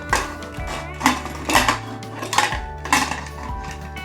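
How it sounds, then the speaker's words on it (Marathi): Repeated metallic clanks and clatters of a pressure cooker lid being handled and fitted, several sharp knocks spaced about half a second apart, fairly close. "चला तर आता झाकण झाकून घेऊया"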